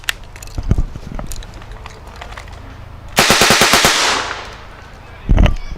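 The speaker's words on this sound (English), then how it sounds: "Have you got to fire off a few rounds for us?" A WWII-era firearm fires at a wartime reenactment show, with a long rapid burst of machine-gun fire followed by a lone loud shot, cracking sharply over the outdoor crowd noise.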